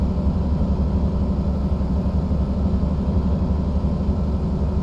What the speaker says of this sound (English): use a little bit of engine braking.